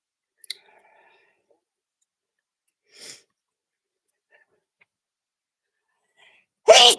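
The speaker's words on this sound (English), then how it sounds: "Sometimes I get to sneezing, y'all." A person sneezes once, loud and close, at the very end, after a long quiet stretch with a couple of faint breaths or small sounds; no talking.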